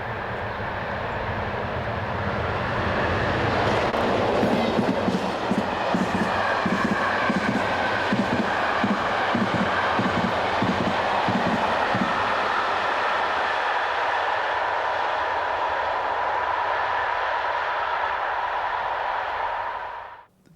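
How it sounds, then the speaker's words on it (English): EA-class electric locomotive number 3017 heading an eastbound freight train from Padborg, a steady rumbling roll with rhythmic clacking of wagons over rail joints, fading away at the end, no talk. "EA-class electric number 3017 heads this eastbound freight"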